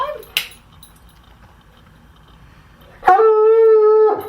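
Bart the dog lets out a sharp yelp, then after a quiet stretch breaks into a loud, sustained, tonal howl lasting about a second, close to the listener.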